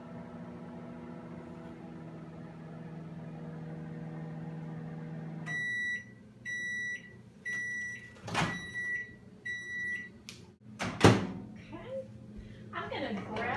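Microwave oven heating ground beef hums steadily, then a series of about five loud electronic beeps sounds close by, followed by a door clunk and some handling noises.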